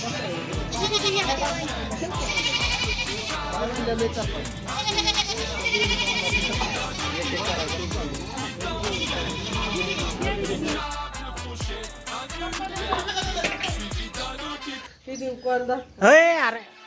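Goats bleat repeatedly at a busy, noisy livestock market, with people talking throughout and a louder, nearer bleat near the end.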